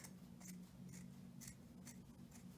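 Scissors snip through the cloth of a face mask, cutting beside the stitching with several quiet, evenly spaced snips over a steady low hum.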